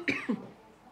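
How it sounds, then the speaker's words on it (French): A person coughs twice in quick succession, close and fairly loud, then the room falls quiet. "Je tousse."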